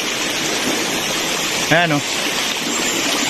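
A river running along a property boundary, heard as a steady broadband rush of flowing water, with one short spoken word briefly over it midway.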